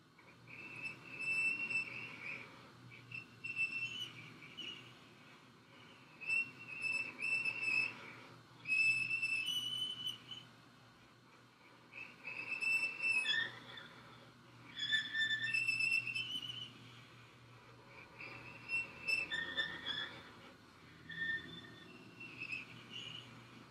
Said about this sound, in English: Circular bowing behind the bridge.